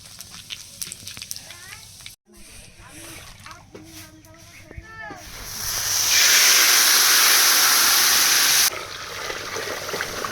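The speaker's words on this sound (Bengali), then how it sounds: "তেলের মধ্যে শুকনো লঙ্কা গোটা জিরা আর গরম মশলা ফোড়ন দিয়ে দেবো" Dry red chillies, whole cumin and garam masala hit hot oil over dal for a village feast, and a loud steady hiss and sizzle swells midway and holds for a few seconds, with voices talking before it.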